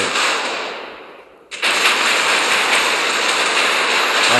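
Warship guns fire volleys in the naval combat video game Modern Warship: a loud, dense roar of rapid blasts that dips briefly, then cuts back in with a sharp burst and keeps going.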